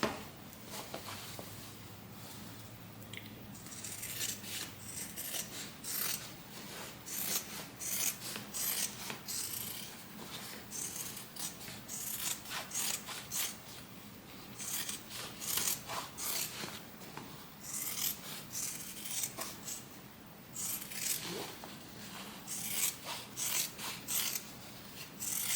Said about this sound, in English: on the lining I do want to cut the seam allowances back some